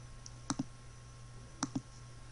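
Two quick pairs of crisp computer mouse clicks, close and distinct, over a faint steady hum while working in GIMP 2.8 image-editing software.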